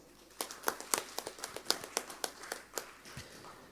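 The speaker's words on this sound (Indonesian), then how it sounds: "mari kita berikan tepuk aplaus kepada kita semua" Audience applause at a council plenary session, heard as a quiet, loose series of separate claps spread across a few seconds, fairly distant.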